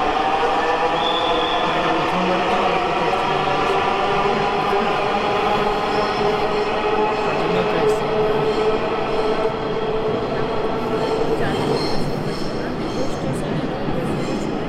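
A Dhaka Metro train between Uttara and Motijheel rumbles steadily nearby, a broad continuous roar with faint high squeal, while voices murmur underneath.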